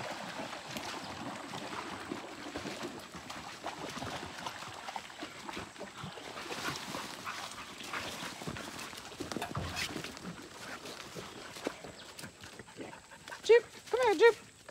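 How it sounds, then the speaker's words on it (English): A hunting dog on a hog-dogging outing barks in short bursts, mostly faint and distant under people talking, with a few louder barks near the end. "Go shut Rex up"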